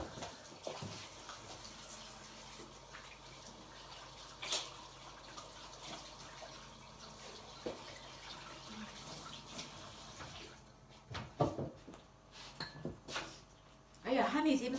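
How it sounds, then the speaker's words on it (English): Water running from a tap while hands are washed in a home kitchen, a steady faint splash under intermittent conversation, ending with louder clattering and splashing. "So I'm just going to wash my hands."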